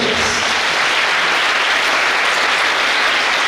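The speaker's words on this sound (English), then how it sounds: "Give a human applause to our chief guest and the guest of honor" Audience at a World Homoeopathy Day hospital function applauding the chief guest and guest of honor, a dense, loud, continuous wash of clapping from many hands.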